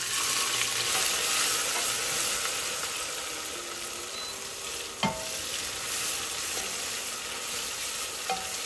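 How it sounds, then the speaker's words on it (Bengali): Chopped onion hits hot oil in a pan for Bengali muri ghonto and sizzles loudly and steadily, with scraping stirs and an occasional sharp clink of the utensil against the pan. "এখন আমি দিয়ে দিচ্ছি পেঁয়াজ কুচি।"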